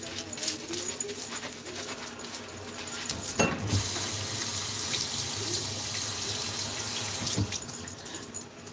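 Water runs steadily from a kitchen tap while a utensil is rinsed during home cooking, a continuous close splashing stream with brief clinks and knocks partway through.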